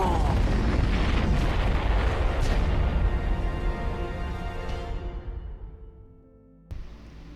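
A huge movie explosion booms and rumbles loudly, then decays over several seconds into a fading roar, followed by a brief sharp burst near the end.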